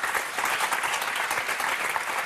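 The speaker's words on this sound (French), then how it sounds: "et puis on vous applaudit très fort." Studio audience on the French game show Motus applauding, a brief dense burst of clapping heard close and steady.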